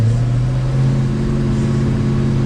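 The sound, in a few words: 1969 Ford Mustang Mach 1 Super Cobra Jet engine accelerating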